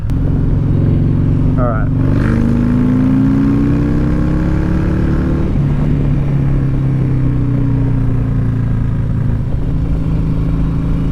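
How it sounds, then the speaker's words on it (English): A Harley-Davidson Sport Glide fitted with a Redshift 468 cam revs up, its engine note rising in pitch and then holding a steady drone, loud and close, with someone talking briefly over it. "I want to try and find a moment where we can rev it out a bit more and just push those higher RPMs."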